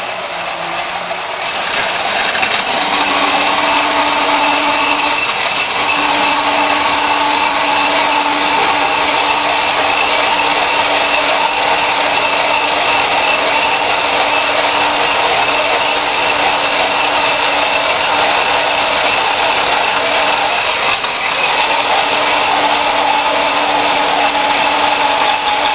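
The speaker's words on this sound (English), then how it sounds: "I'm going to go ahead and cut off a bottom section here and then drill a hole in that" A loud, continuous mechanical whine of a power tool cutting and drilling metal, running steadily for the whole stretch with a grinding, ratcheting texture and no speech.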